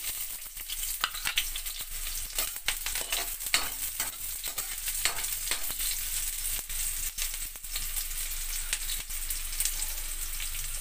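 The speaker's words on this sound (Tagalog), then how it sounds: "Igigisa na natin yung ampalaya." Onion and garlic sauté in oil for ginisang ampalaya with egg, giving a soft, steady sizzle broken by frequent stirring scrapes and taps, fairly quiet, with no voices.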